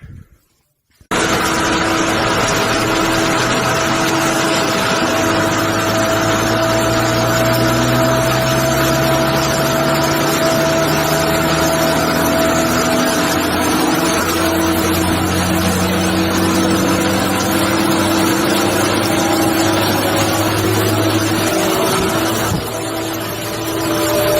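A car engine doing part-throttle runs during throttle mapping, a loud steady drone that starts abruptly, rises in pitch through long sweeps and falls back, close and continuous with no talk.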